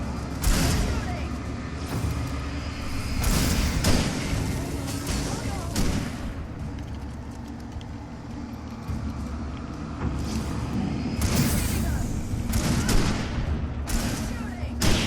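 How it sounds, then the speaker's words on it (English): Repeated gunshots crack out across a long stretch of Alan Wake game combat, loud broadband bursts firing in irregular volleys, some spaced seconds apart and others in quick clusters, over a constant low rumbling background. "Shooting."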